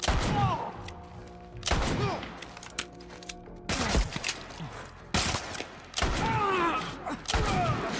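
Gunfire in The Last of Us Part I comes in loud, close bursts and single heavy shots with booming tails, separated by brief quieter gaps.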